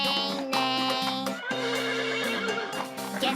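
A horse whinnies in long, loud, tonal neighs that repeat across the clip on a farm, with a brief gap near the middle and no talking over it.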